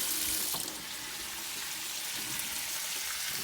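Hot water runs from a kitchen tap to rinse out a pan used for browning meat, a steady close hiss with faint clinks, heard alone.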